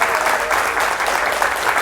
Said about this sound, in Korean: 다시 한번 정말 좋은 얘기를 들려주신 민태기 박사님께 큰 박수 부탁드리겠습니다